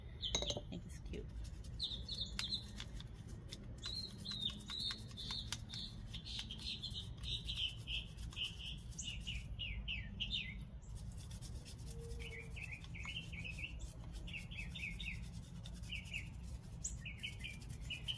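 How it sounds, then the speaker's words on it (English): Wild birds chirp at a garden feeder in repeated bursts of bright, high twitters throughout, fairly near, over a low, steady outdoor rumble. "I have a lot of different birds that come here because I feed them"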